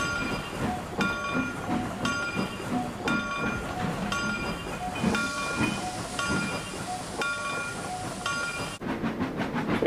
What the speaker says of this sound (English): Train number 255 in Nelson to Spokane passenger train is now entering Northport